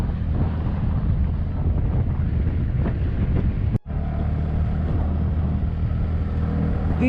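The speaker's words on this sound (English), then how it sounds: "So now we are riding uphill" Riding a TVS NTorq scooter uphill on a narrow, broken Indian village road, mostly heavy wind buffeting over the mic with a low engine drone underneath, briefly cutting out for a moment midway.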